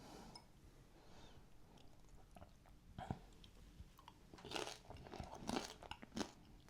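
Crisp pasta chips dipped in Italian salsa are bitten and chewed close up, with crunchy snaps and crackles building into louder bursts of chewing, no talking.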